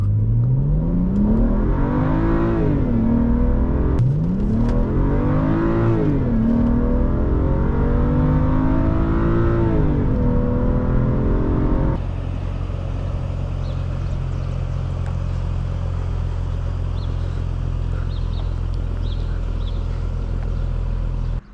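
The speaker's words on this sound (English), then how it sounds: "Today we are driving a 2011 BMW 335i rear-wheel drive" A 2011 BMW 335i rear-wheel-drive engine revs hard as it accelerates through several gear shifts, pitch climbing and dropping, then settles into a steady loud cruising drone.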